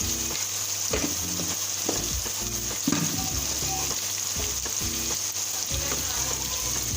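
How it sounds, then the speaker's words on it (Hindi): Masala with turmeric and red chili powder roasting in a pan for dhaba-style achari chana dal, giving a steady loud sizzle and frying crackle with scattered scraping stir sounds throughout. "मसाला मेरा भून गया"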